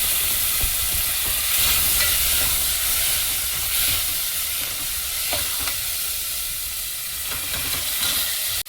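Peanuts roast in hot oil in a pan as they are stirred, a loud continuous sizzle and hiss with soft scraping strokes running throughout and no talking.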